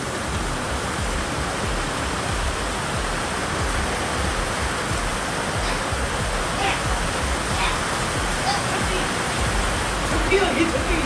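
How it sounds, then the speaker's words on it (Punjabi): Heavy rain pouring down with rainwater rushing past, a dense, loud, unbroken roar that holds steady throughout. "ਉੱਥੇ ਚੈੱਕ ਕਰੋ ਪਾਣੀ ਕਿੰਨੀ ਤੇਜ਼ ਆ ਰਿਹਾ ਉਹ ਦੇਖੋ"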